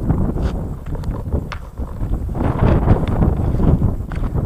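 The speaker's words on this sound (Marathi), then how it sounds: "वारा खूप आहे मित्रांनो" Strong wind buffeting the microphone on a Konkan coastal hilltop overlooking the sea, a loud continuous roar with gusty surges and no voices.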